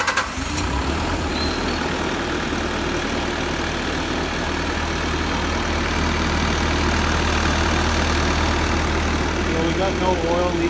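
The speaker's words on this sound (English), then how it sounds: "now it's gonna get loud here. Mike's gonna fire it up." A Bobcat S630 skid steer engine turns over and settles into a loud, steady, low diesel idle that runs throughout, close by, with voices talking faintly underneath.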